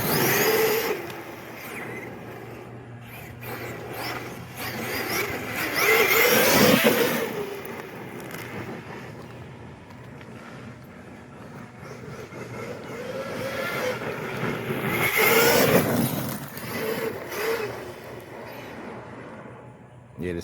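A Traxxas Sledge 6S RC truck with altered front and rear diffs drives on dirt, its motor whining as it surges twice, near and fairly loud, over steady background noise.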